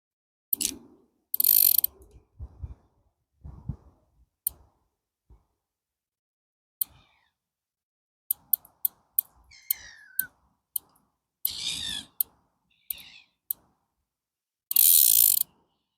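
A fishing reel's drag is loosened, giving sparse, sharp ratcheting clicks in short separate bursts with quiet gaps between them, close and fairly faint.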